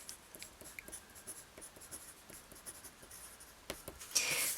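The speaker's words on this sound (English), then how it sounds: "I'm going to use a 4B pencil just to demonstrate this to you." A 4B pencil shades on paper in short repeated scratchy strokes at a steady rhythm, close and quiet, ending in a louder rough scrape.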